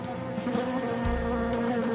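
Bees buzzing around a hive, a continuous droning hum with a few louder swells as insects pass close, steady and fairly faint, with no voices.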